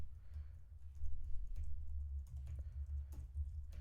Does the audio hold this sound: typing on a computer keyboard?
yes